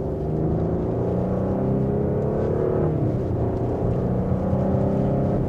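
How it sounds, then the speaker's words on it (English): A 2026 Audi A6 Prestige pulls away and gathers speed, its engine hum rising steadily from inside the cabin with a brief dip in pitch as it shifts gears, smooth and moderate rather than loud. "And just a minor acceleration, we're up to speed"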